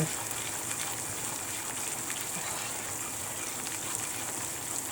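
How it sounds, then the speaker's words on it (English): Milk poured into caramel sauce in a home kitchen, heard as a steady gushing, splashing wash that runs unbroken throughout at moderate level. "I will just pour milk in that"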